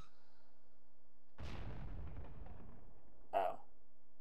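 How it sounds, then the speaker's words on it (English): In The Legend of Zelda: The Wind Waker, an object breaks with a sudden loud explosion that rumbles and decays over about two seconds, followed by a short sharp pop. "Let's watch the thing break and explode."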